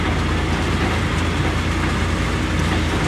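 An old car crawls slowly along in first gear, giving a continuous low rumbling drone with a steady rattle, close and even in loudness for the whole stretch, with no talking.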